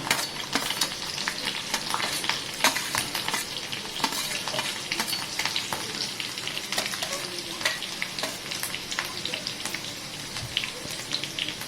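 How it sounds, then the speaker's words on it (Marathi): Green chillies frying in hot oil for Khandeshi zunka, a loud, dense and continuous crackling sizzle heard close up with no talking. "मस्तपैकी तडतडलं आहे त्याच्यामध्ये आपण टाकूया आता हिरव्या मिरच्या"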